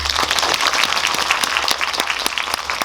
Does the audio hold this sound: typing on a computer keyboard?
no